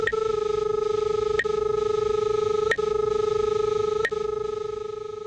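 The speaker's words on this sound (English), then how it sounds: "The audio pitch is tied to the proximity signal." A line tracing locator gives a steady, distorted electronic feedback tone over a static hiss, broken by sharp clicks at regular intervals of about one and a half seconds.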